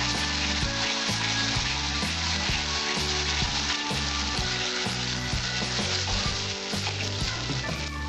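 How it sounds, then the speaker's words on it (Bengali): Fried spices for Bengali katla fish kalia sizzling hard in oil after a splash of water, a loud, steady, close crackling hiss with a low rumbling bubble beneath throughout. "আমি এখন অল্প একটু জল দেব।"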